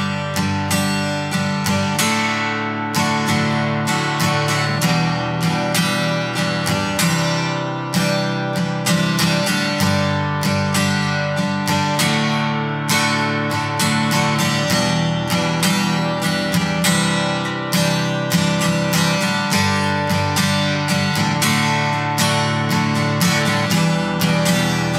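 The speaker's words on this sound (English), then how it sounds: "change our chords on the and of four" Strummed guitar chords with the changes falling on the and of four, a steady rhythmic strumming pattern that is loud, close and continuous, played alone without talk.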